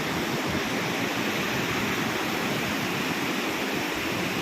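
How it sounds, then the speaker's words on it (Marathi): A loud, continuous roar of a swollen, fast-flowing river in flood, a dense, unbroken rush of water with no pauses. "पाणी इतक्या वेगात वाहते जोरात वाहते पाणी"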